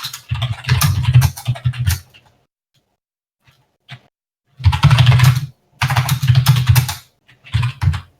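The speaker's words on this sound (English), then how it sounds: "Oh, that's some angry typing." Fast, forceful typing on a computer keyboard, close and loud, in two dense bursts separated by a quiet gap, with a few sparse key taps in between.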